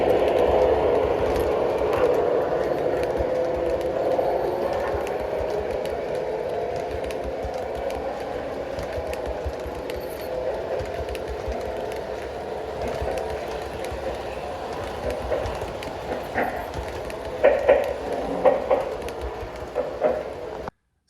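A model Penn Central GG1 electric locomotive runs on a layout with a continuous rolling rumble and faint clicking, steady throughout, ending in a few sharper clatters near the end.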